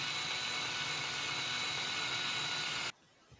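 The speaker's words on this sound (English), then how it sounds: "Start off very slowly with the drill." Drill turning slowly with a 2mm bit into the metal post of a custom Ford Mustang GT Bullitt, a steady loud whirring hiss for about three seconds that cuts off abruptly into near silence.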